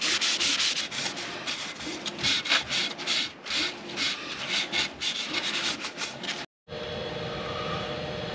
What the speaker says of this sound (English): I'm just applying the true oil